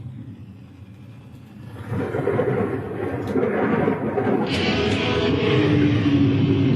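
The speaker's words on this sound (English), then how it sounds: "I love that thunder." Deep rolling thunder rumbles steadily and grows louder, a broad low roar with a few faint higher clicks on top.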